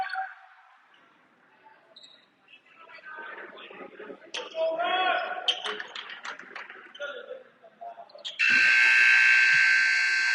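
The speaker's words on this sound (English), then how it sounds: "That's your buzzer." A loud, sustained electronic buzzer blares near the end of the first quarter of a basketball game, following crowd noise and sneaker squeaks in a gym.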